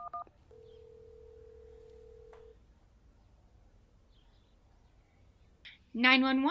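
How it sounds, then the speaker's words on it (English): 911 is dialed on a cell phone: a few quick keypad tones, then one long steady tone that stops, a quiet pause, and a voice starting to talk at the end. "you dial 911 on your cell phone"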